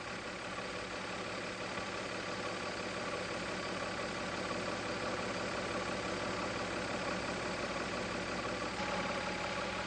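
A Mazda MX-3 engine idles at a steady, even hum, a faint continuous drone with no talk.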